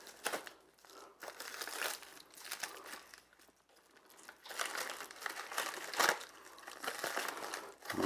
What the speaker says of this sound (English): Good thing I have some knives available here to cut into this package.